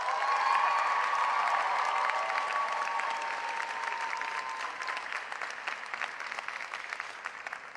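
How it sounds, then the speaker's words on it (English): Graduation audience at Thurgood Marshall Secondary School applauding and cheering for the school's athletes, a loud sustained wave of clapping with a few whoops, steady throughout and slowly thinning toward the end. "Let's hear it for our athletes at Marshall."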